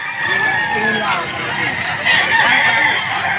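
Gilmore Hatch gamecock roosters, eight months old, at a chicken market in Padre Garcia, Batangas, giving steady fowl calls and clucks amid busy market chatter and crowd noise throughout.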